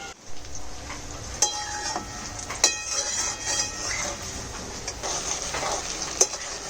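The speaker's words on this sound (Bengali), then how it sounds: "একটু ধীরে ধীরে ভাজলে পকোড়াটা খাস্তা হয় তাই আমি ধীরে ধীরে ভাজি" Cauliflower pakoras fry slowly in hot oil, giving a steady close sizzle with scattered sharp clinks and taps of a utensil against the pan.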